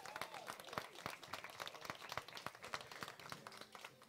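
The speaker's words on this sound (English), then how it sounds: "Can we give our amazing chefs a round of applause for the food service and the amazing meal" Gala audience clapping for the chefs: a dense patter of many hands, moderately loud and sustained throughout, with no one talking over it.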